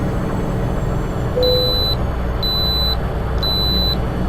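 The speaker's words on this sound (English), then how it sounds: "And that beep is a way station" Weigh station alert in the American Truck Simulator driving game, heard as three evenly spaced electronic beeps, each about half a second long, over a steady truck engine drone.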